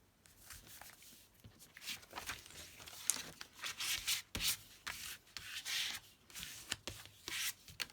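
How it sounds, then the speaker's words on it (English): Paper card being rubbed down by hand onto glue in a craft project, giving repeated dry scraping and rubbing strokes in short bursts, close up and fairly quiet, with no talking. "It really does make a difference when you rub the card over."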